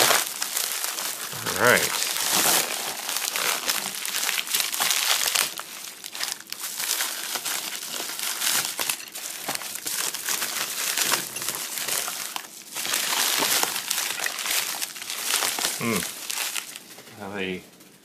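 Bubble envelope packaging crinkling and tearing as it is opened by hand, a steady loud rustle up close throughout, with someone speaking briefly.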